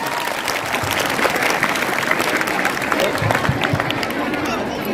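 A school annual function audience bursts into loud, dense applause for a prize announcement, many hands clapping together over background chatter.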